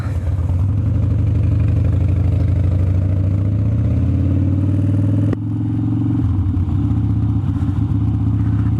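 A motorcycle engine with an S&S Teardrop intake idling close by, a loud steady throbbing rumble with a regular lumpy pulse that holds for several seconds and then shifts slightly in tone.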